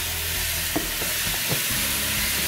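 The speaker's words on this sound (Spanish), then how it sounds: "Arriba caliente, comenzamos a dorar la carne." Small cubes of beef browning in hot oil, a loud, steady close sizzle broken by a few spoon scrapes and knocks against the pan.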